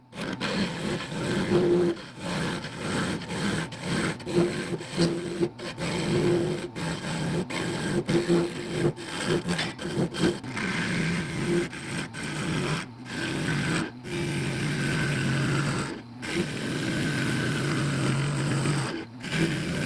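Hollowing gouge cutting into a spinning wood blank on a lathe, a steady close rasping scrape with brief pauses between passes, running continuously without talk.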